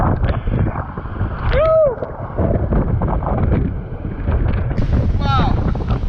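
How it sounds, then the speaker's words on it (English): Big ocean waves crash during a typhoon, heard as a loud, continuous roar of surf and water with heavy wind buffeting the microphone and a few sharp tonal squeals over the top. "Big waves crashing."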